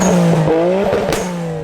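A Nissan Skyline R32 GTR pulls away, its engine rising through the revs with a loud, close roar and a gear change midway, no talk over it.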